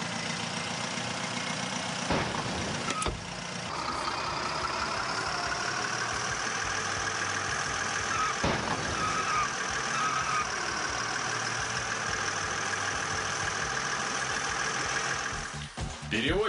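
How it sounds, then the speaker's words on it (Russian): Car engine in the video game Transporter 2 (Перевозчик 2 Перезагрузка), a steady idling or running motor hum held throughout with a few sharp transients, continuous and moderately loud. "Что же касается звуков мотора и общей звуковой атмосферы, то здесь все на среднем уровне."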